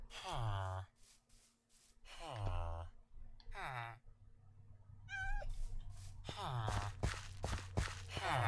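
Cat meowing in the Minecraft video game: a short sequence of rising, wavering meows around the middle, with loud talk and game music before and after.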